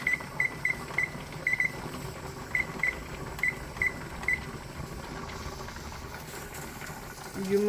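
A pressure canner processing pints of beans fills the space with a steady hiss and rumble, while a weighted gauge gives off short, faint repeated jiggles during the first few seconds.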